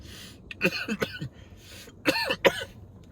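Someone coughs after smoking cannabis, in two close bursts of harsh, raspy hacking with a short pause between them, nearby and fairly loud.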